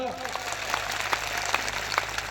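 A crowd at a political rally in Nasvadi, Gujarat, applauds police officers with dense, steady clapping at moderate distance, partly under a voice.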